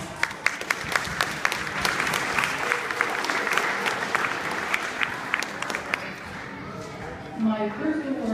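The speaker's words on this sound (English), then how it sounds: "So please give yourself a round of applause." Audience applause at a school awards day, a dense steady clapping crowd that fills most of the moment before thinning out near the end, with a voice briefly audible over it.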